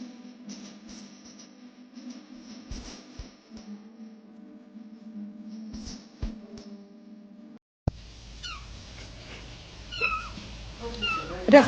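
Ginger cat eating, with soft meow-like tones and small chewing noises close by, followed by a burst of louder household noise and voices talking.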